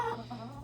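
Chickens cluck softly in a winter coop, several short calls overlapping at close range over a steady low hum, with no talking.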